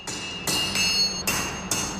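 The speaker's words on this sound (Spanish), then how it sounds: "A golpe de martillo, la vara de acero incandescente se moldea." A hammer forging a red-hot steel sword blade at a swordsmith's forge, five loud ringing metallic strikes landing at a steady, unhurried rhythm, heard close up with no talk.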